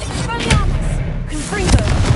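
Bombarda spell blast in a Harry Potter video game: a few sharp, punchy explosive thumps layered with magical whooshing effects, loud and close, with a voice shouting in between.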